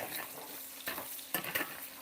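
Bacon bits sizzling steadily on a stovetop, with a few sharp scrapes and clinks of a utensil stirring them through the pan.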